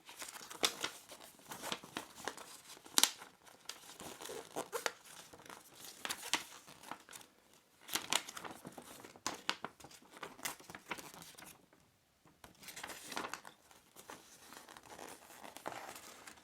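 A paper quick start guide for an EE Bright Box 1 wireless router is unfolded, giving repeated crinkling and crisp rustling bursts with brief pauses, close and fairly quiet, with no talking.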